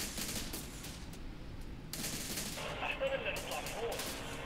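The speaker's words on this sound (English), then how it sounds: "That heavy machine gun fire is going to take a few of them down at least." Heavy machine gun fire in the war strategy game Syrian Warfare sounds as a dense, sustained rattle of rapid shots that never lets up, mixed with battle noise and occasional voices.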